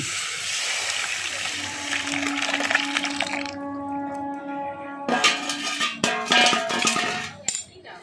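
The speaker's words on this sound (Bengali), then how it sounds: "এবার সেদ্ধ করা ডালটা আমি দিয়ে দিচ্ছি" Boiled masoor lentils pour into a pan of fried spices for a fish-head dal, a wet splash and crackle followed by clattering scrapes and knocks of utensils against the pan, with sizzling fading under the clatter.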